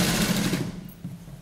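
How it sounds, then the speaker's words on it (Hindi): Sewing machine stitching a seam to join fabric on a kurti, a fast close-up mechanical rattle that runs briefly, drops away and then resumes more quietly. "एक सिंपल सी सिलाई लगाकर इस कपड़े को इसके साथ जॉइंट कर लेंगे।"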